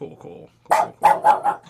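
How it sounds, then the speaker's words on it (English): A pet dog named Lucy barks four times close by in quick, evenly spaced bursts, right after a short spoken word. "That's my dog."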